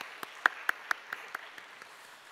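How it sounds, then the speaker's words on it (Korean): Brief, scattered applause from a church congregation, a handful of sharp claps spaced out over a couple of seconds and fading quickly, sounding sparse and moderately distant in a reverberant worship space. "우리 격려의 박수 한번 해주면 좋겠네요"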